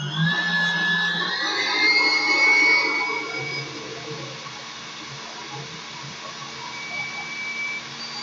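An electric mixer beats egg yolks with sugar in a bowl, giving a continuous whirring hum with a brighter, busier whine in the first few seconds before settling into a steadier, quieter drone.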